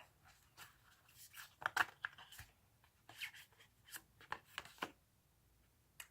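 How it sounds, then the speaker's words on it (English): Tarot cards being shuffled during a reading, a series of soft riffling and sliding bursts, fairly quiet and close, with short pauses between. "I'm gonna keep shuffling."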